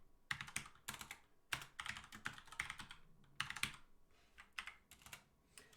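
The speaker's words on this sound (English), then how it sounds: "Having bad typing finger" Fast, irregular clatter of keys on a computer keyboard in bursts and short pauses, close and fairly quiet, with no talking.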